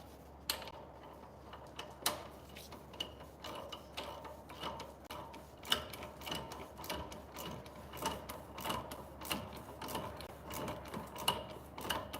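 Bolts being loosened on a vehicle differential with a ratchet wrench, a steady run of close, dry ratcheting clicks and metallic ticks with no talk over them.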